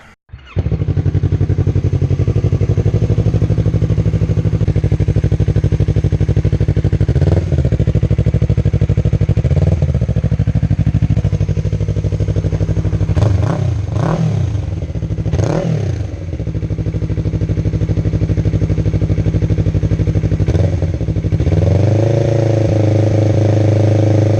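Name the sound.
motorcycle engine starting and idling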